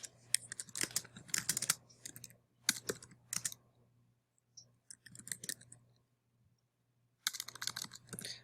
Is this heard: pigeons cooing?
no